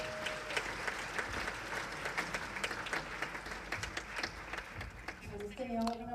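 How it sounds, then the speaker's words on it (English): Audience applause at a data festival closing ceremony in Uruguay, a steady wash of many hands clapping at moderate distance, with a sustained tone and a few brief sounds near the end. "I would like to invite you all for a round of applause to our hosts and organizers in Uruguay and Global Partnership"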